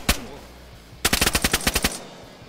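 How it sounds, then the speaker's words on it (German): Gunfire in the video game DayZ: a single shot, then a rapid burst of about ten sharp cracks, close and loud. "Oh, Schüsse."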